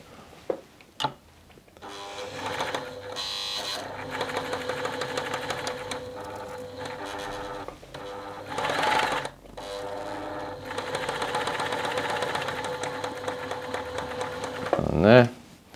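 A Tony CM 500 sewing machine stitches fabric in bursts of steady, rapid mechanical whirring separated by short pauses, with a few clunks and a louder knock near the end; no one speaks.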